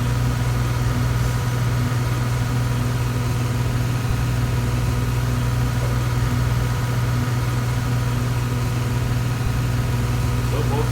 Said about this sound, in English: Engine 2 is starting.